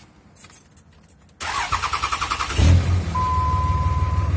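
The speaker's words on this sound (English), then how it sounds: "we're going to come in here and fire the truck up" A 2003 Dodge Ram with a Cummins diesel engine cranks with a rapid, even chugging, catches with a loud low roar, then settles into a steady, close diesel idle.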